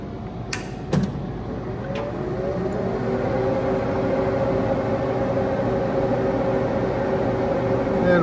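A 1980s UNIX rack machine powers on with a few sharp clicks, then a steady fan and motor hum rises and holds, layered with sustained mechanical drone tones.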